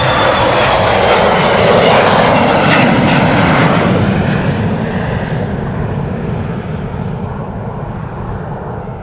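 A KLM airliner departing Amsterdam Schiphol's Polderbaan runway roars loudly as it climbs away, its broad engine noise slowly fading into the distance. No voices are heard.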